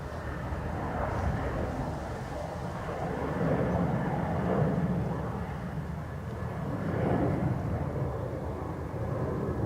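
Aer Lingus airliner arriving from Rome at Dublin Airport, a steady distant jet roar that swells and fades in broad washes, moderately faint, with voices talking faintly underneath.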